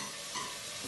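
Onions, celery and carrots sizzle in an oiled pan on a hot stove while being stirred, a soft, steady frying hiss lasting under a second.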